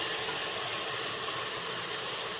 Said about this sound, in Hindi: इसी के साथ हम इसमें धुला हुए दाल को ऐड कर देंगे।